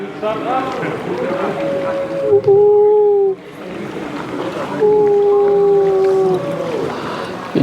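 A boat spun around on the sea near James Bond Island in Phang Nga Bay, its engine whining in rising and falling tones over rushing water, with voices calling out around it.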